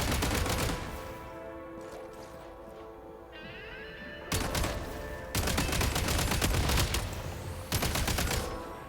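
Dense bursts of gunfire and blasts in the video game Everwinter Without Mercy, loud and continuous, with rapid volleys and heavier surges layered over a constant roar and no talk.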